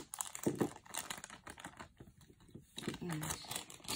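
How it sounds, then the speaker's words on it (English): Crinkly plastic rustling and crackling in short bursts, close by, with a few faint voice fragments mixed in. "I'm going to open the plastic bag."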